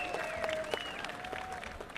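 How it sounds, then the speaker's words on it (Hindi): Audience clapping at a volleyball semi-final between Fahim Shaheed Club Pachhot and Shaheen Club Pak Gali, a steady, fairly faint wash of applause running under a whistle-like tone and a loudspeaker voice. "फेम शहीद क्लब पाछोट के चाले वाले एक दफा भरपूर तालियां बजाने की टीम करें।"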